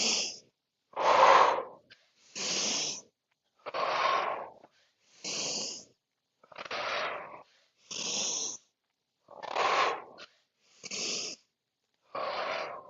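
Deep, deliberate breathwork during an exercise session, slow breaths drawn in and pushed out in a steady alternating rhythm, each breath loud, airy and close, with brief silences in between.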